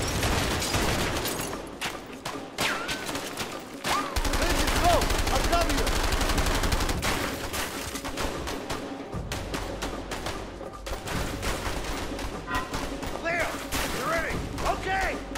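Gunshots in the co-op game A Way Out, with rapid automatic bursts and scattered single shots packed close together throughout, with players talking over the shooting.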